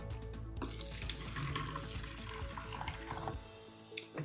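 Electrolyte-reduced bottled spring water runs steadily from a tap and pours over a tea bag, a continuous close splashing stream that trickles off near the end into a few drips.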